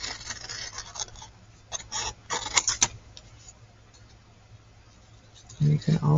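Small scissors snipping paper for a fish shape on a handmade Father's Day card, heard as a few quick close clicks and snips with quieter gaps, and a voice faintly in the background.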